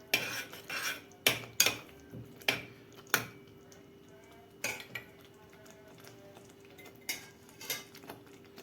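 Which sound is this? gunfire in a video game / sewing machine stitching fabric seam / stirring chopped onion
stirring chopped onion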